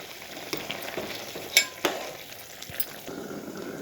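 Chopped tomato being mixed into chicken curry in a hot pan makes a short burst of low sizzling, with a few sharp spoon clinks and scrapes against the metal.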